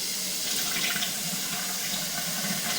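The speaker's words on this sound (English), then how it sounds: "run some water" Water runs from a tap into a stationary tub, a steady, close hiss and splash that stays even throughout without any voices.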